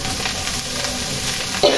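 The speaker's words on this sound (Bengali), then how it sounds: "ভালো করে একটু ডিমগুলো ভাতের সাথে মিশিয়ে নেব" Fried egg being stirred into rice in a pan, a steady close sizzle with scraping of the spoon running throughout and a brief louder scrape at the end, no voices.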